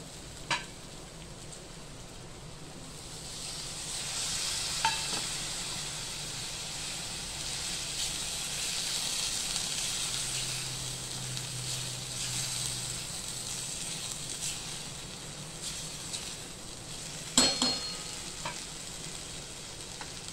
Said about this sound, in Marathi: आता आपण वाटाणे टाकूया, फ्रोझन मटर